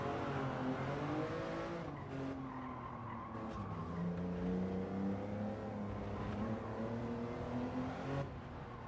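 A race car in Gran Turismo 7 trail braking into a corner, its engine droning steadily while tires squeal and skid continuously throughout, loud and close with brief dips in the roar.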